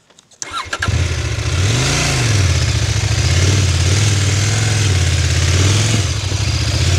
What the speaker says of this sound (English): So that easy, you can get the bike up the hill.